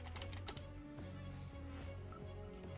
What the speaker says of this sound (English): I'm going to type in my password